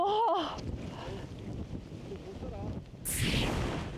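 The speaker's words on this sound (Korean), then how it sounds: "정상에 다다르자 바람이 더욱 거센데요" Strong wind roars across a snowy mountain summit at about minus ten degrees, buffeting loudly and gusting harder near the end, with a brief voice at the start.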